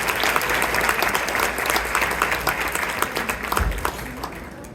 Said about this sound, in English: a huge round of applause for MCC President, Mr. Masood Bijapuri.